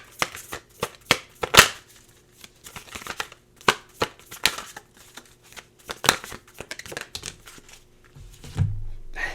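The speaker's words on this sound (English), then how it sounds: "Just pulling you some oracle cards." Oracle cards are shuffled and pulled from the deck, giving close, irregular bursts of papery riffling and snapping. The sounds are loud at first and get sparser toward the end, with a soft thump near the close.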